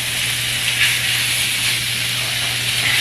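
Thin slices of meat sizzle in a hot pan on a home stove, giving a steady, close hiss with a faint low hum beneath and no talking.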